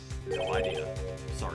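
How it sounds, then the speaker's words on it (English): A phone's modern ringtone goes off in the Phoenix Wright: Ace Attorney video game, a bright repeating electronic melody heard under a person's brief speech. "I heard a phone ring just now, one of those newfangled ringtones."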